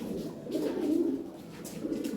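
Fancy pigeons of the Moynar Jag breed coo in a loft, a low throaty warble that swells and fades in soft rolling phrases, close by with no voices.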